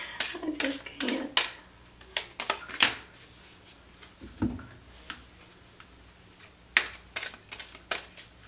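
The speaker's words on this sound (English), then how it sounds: "sometimes I can shuffle and sometimes I just can't" Tarot cards being shuffled by hand, a series of quick riffling bursts and soft taps near the microphone, interrupted by brief pauses and a few spoken words.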